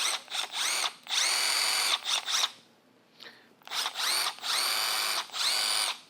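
Milwaukee M12 FUEL Surge hydraulic impact driver running in several bursts, a whirring, buzzing motor with rapid impacting, near and fairly loud, separated by short pauses with no talk.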